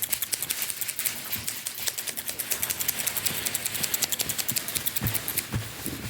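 Scissors snipping hair during a fast, aggressive close-up haircut: rapid, crisp, regular clicks in quick succession, loud and near, continuing throughout, with no talking.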